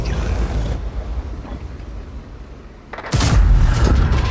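A WZ-111G tank destroyer fires its large gun in World of Tanks, a loud, sharp boom with a long rumbling tail. A rumble of engine and battle noise runs under it before the shot.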